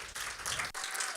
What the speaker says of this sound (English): And then another round of applause.